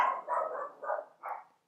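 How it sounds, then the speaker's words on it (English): Small chihuahuas yapping in a quick string of four high, short barks, fairly close and clear, with no talk. "Barking chihuahuas."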